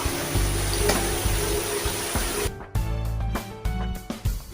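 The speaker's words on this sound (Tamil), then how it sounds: "இப்போ நம்ம மீன் முட்டையை ஆட் பண்ணிடலாம்" Fish eggs go into hot oil in a pan, with turmeric and cumin powder already added, for a fish egg fry. A steady hiss gives way to loud, close sizzling and crackling bursts. No one speaks.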